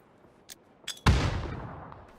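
Gunfire and a grenade blast in a battle royale esports scrim: a few faint, sharp shots, then one loud, close explosion with a long rumbling decay.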